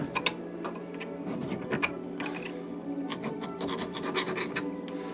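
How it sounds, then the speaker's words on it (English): Edge of a metal probe being sanded with 220 grit silicon carbide sandpaper, a steady close scratchy rubbing of quick repeated strokes at low level. "you can use like 220 grit silicon carbide sandpaper to get a final edge on it"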